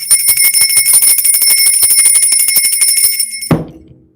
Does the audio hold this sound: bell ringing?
yes